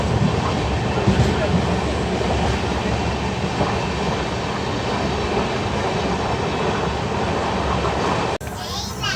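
The Kshamata Express, running from Visakhapatnam to Hazrat Nizamuddin, overtakes on Indian rails with a loud, continuous rumble and rhythmic clickety-clack of wheels, heard up close from aboard a moving train, with a voice talking over it.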